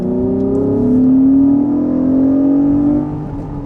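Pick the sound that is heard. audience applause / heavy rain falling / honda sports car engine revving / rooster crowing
honda sports car engine revving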